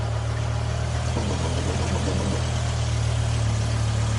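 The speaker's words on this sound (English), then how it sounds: "I want you to listen to the engine start up" A BMW M5 sits idling on tick over with a steady, slightly rough low hum and no throttle blips, recorded close with no talking.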